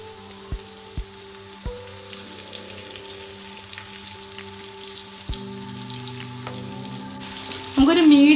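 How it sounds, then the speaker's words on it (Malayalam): Tuna fish fries Kerala style in a pan with curry leaves, a soft steady sizzle with a few sharp knocks of utensils against the pan and a louder burst of spattering at the end. "നമുക്കൊരു മീഡിയം ഫ്ലെയിമിലിട്ട് ഇത് പൊരിച്ചെടുക്കാം."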